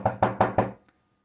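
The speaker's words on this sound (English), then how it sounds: "And they knocked on the door." Four firm, evenly spaced knocks land on a door at close range, followed by a faint trailing tap and then silence.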